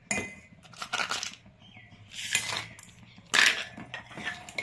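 Pieces of rock sugar dropped into a pot of thickened payesh, a Bengali rice pudding, give a few distinct clinking bursts of hard crystals against a metal pot and spoon, spaced apart over low kitchen noise.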